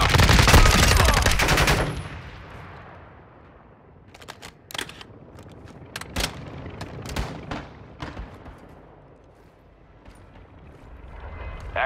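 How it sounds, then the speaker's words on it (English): Gunfire rings out in Call of Duty: Modern Warfare II, with a loud, dense opening burst for about two seconds, then scattered sharp single shots and short volleys of varying distance. "You are taking effective fire."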